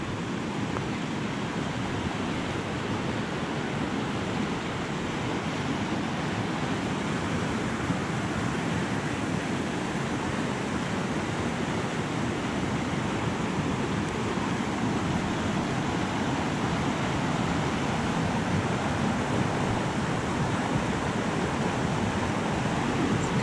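A fast-flowing river or creek at a campsite, rushing as a steady broadband roar throughout, loud and unbroken with no voices.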